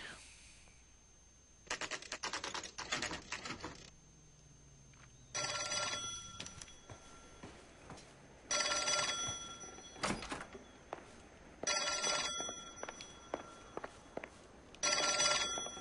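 A telephone rings in the video game L.A. Noire, sounding in five or six loud repeated bursts with short quiet gaps between them. There is faint background noise and no talking.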